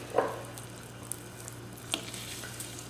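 Spam slices fry in a little oil in a pan, a soft, steady close sizzle with a low hum beneath and a few sharp pops and spatters.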